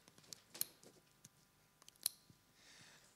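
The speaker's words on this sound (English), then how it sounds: "He knows that he connected the cable correctly when he hears this clicking sound." A car cable connector snaps into place on a factory line, giving two sharp, faint clicks about a second and a half apart against a quiet background.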